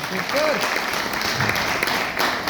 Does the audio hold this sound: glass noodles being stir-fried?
no